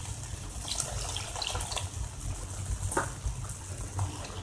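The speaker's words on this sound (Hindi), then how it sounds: "इसमें हम थोड़ा और दूध ऐड करेंगे" Milk pours steadily into cooking moong dal halwa, giving a continuous close liquid splash and gurgle with light clinks, without speech.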